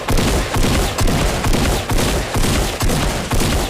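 Double-pump shotgun blasts in the video game Fortnite: loud, close shots repeat in a steady, rapid rhythm, each a dense booming burst with almost no gap between them.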